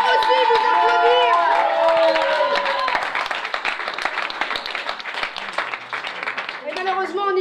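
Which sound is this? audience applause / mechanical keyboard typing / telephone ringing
audience applause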